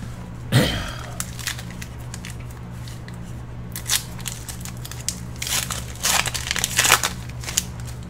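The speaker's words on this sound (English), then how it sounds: "Let's go ahead and open up the last of Tony's packs" Foil Pokemon booster card packs are torn open up close, giving one sharp rip followed by bursts of crinkling and crackling foil.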